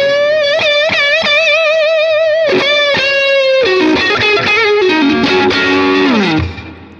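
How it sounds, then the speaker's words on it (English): Overdriven electric guitar with reverb through a Fractal AX8 processor playing bluesy bent notes, sustained and wavering, then a flurry of picked notes before the final bend fades. "I will do some fake blues bends for you"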